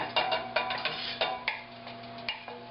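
A utensil scrapes and taps in a pan while pasta is stirred together with mushrooms, onions and asparagus, giving a series of light metallic clicks and scrapes close by over a low steady hum.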